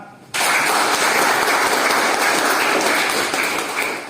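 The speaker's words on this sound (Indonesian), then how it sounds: "Tepuk tangan." Cadets in a military polytechnic class give a sudden burst of group clapping, loud and tightly packed, holding steady for a few seconds before tapering slightly.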